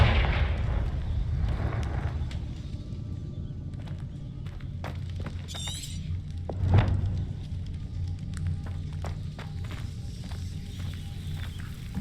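Confringo fire spells bursting in Hogwarts Legacy, heard as a low rumbling blast with a sharp burst near the middle, amid scattered crackles and pops over a constant low game ambience.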